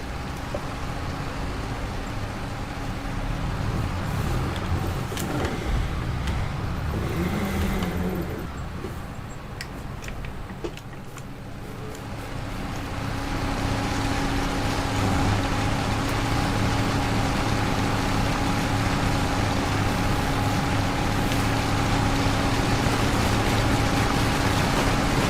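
A farm vehicle in Farming Simulator 22 hauling a trailer, with a steady engine drone and a constant mechanical hum that dip briefly midway and then return, continuous and fairly loud.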